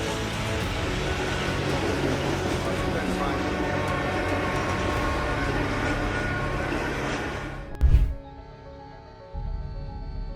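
A train rumbles past on railway tracks close by, a loud, dense roar that holds steady and then drops off sharply after a brief thump. A quieter mechanical hum remains afterwards.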